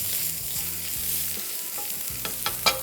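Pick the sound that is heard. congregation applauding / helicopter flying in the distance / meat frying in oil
meat frying in oil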